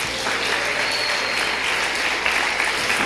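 A church congregation breaks into sustained, even applause that fills the room, dense, close and unbroken for a few seconds, with no speech over it.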